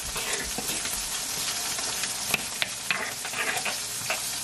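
Food fries and sizzles in a pan while being stirred, a steady close hiss with scraping stir sounds and a few sharper pops, no voices.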